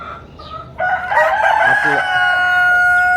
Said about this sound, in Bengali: আমার অরিজিনাল টাইগার মুরগির খামার।